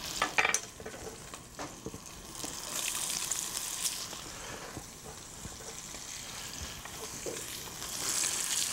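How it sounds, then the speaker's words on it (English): Pancetta and onions fry in a pan as they start to caramelize, giving a soft steady sizzle with scraping stirs and a few clattering knocks, close by and without talk. "just as the pancetta begins to caramelize like that, we want the onions to go in"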